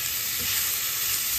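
Tomatoes sizzle steadily in a pan while frying for pinakbet with squash, a continuous, even hiss of oil that stays close and fairly loud throughout, with no talking.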